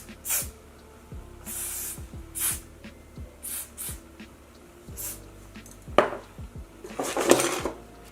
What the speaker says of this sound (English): So I'm just going to spray on the lace.